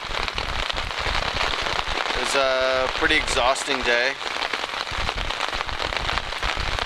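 Steady rain patters on a tent at a campsite in Algonquin, a dense hiss throughout while a person talks briefly over it.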